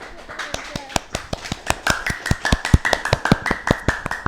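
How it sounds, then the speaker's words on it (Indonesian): Scattered applause from a small podcast audience, a run of sharp individual claps that grows denser and louder, with voices faintly underneath. "tepuk tangannya dong"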